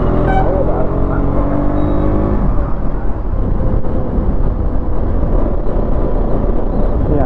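A KTM RC 125 motorcycle cruising steadily on a smooth road, its engine note rising at the start and then settling into a continuous close drone mixed with wind rush.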